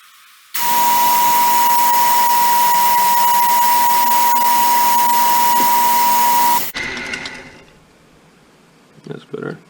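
A machine cuts the inside of a brass and ipe wood ring with a loud, steady whine holding a single high tone for about six seconds, then stops abruptly, leaving a quieter hum and a few faint knocks.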